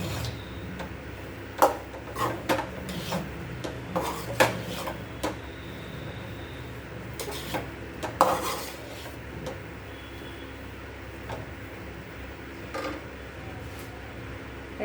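A spoon stirs and mixes tempered tamarind pulihora rice in a pan, giving irregular scraping knocks and clinks against the metal at a close, moderate level, with no talking.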